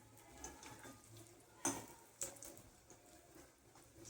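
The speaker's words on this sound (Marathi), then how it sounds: "मी गॅसवर तळून घेते" Matar patties fry in oil in a pan on a gas stove, giving a faint steady sizzle broken by a few sharp crackles and pops.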